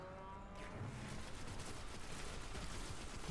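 Rapid, dense enemy gunfire hammering at a rock in the video game Destiny: a continuous loud barrage of overlapping shots and impacts, with no voices.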